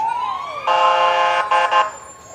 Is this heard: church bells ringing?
no